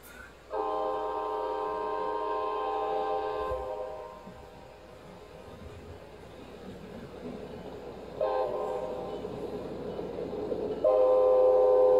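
Cartoon train sound effect for an arriving train: bright chord-like whistle blasts over a rumbling rolling noise, first long toot, then a quieter stretch of chugging, followed by two more whistle bursts.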